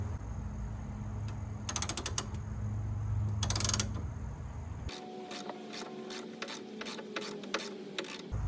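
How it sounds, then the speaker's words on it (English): A 16mm ratcheting wrench loosens an end link bolt on a Porsche 986 Boxster while a 17mm flat wrench counter-holds, giving bursts of rapid clicking followed by a series of spaced metallic ratchet clicks, close and without talk. "now I'm using a 16mm wrench. I am counter holding with a 17mm flat wrench"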